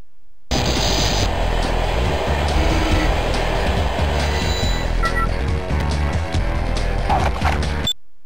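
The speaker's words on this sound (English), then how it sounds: "Bullion was seen exiting the subway train and heading to the ventilation shaft of the subway station." Subway train in the video game 007 The World Is Not Enough: a loud, sustained rumble of rolling wagons with clattering rail noise and metallic rattles runs for nearly eight seconds, alone without talk, then cuts off.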